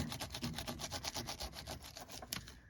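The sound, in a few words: fingers rubbing ink into a mixed media card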